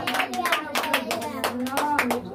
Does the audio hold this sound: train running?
no